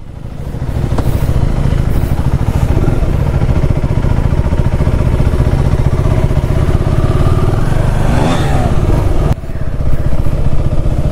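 Several KTM 390 Adventure S motorcycles idle together after a cold start, a loud, rapid, chugging engine pulse running steadily and close, with faint voices in the background.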